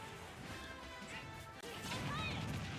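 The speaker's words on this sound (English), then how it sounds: "Going for a couple of down smashes" Down smash attacks landing in a Super Smash Bros tournament match, sharp hits and whooshes amid game effects, with a commentator talking over the action.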